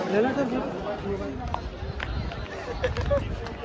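A dense crowd of tourists at the Taj Mahal, a steady babble of many voices with footsteps and scattered calls nearby, a person speaking close over the hubbub.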